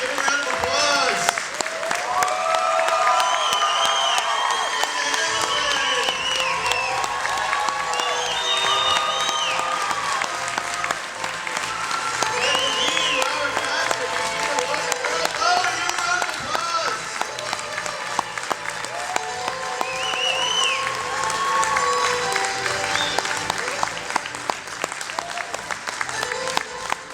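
Loud, sustained applause and cheering from a convention crowd welcoming guests onstage at a Terminator 30th anniversary panel, with whoops and shouting voices over steady clapping throughout.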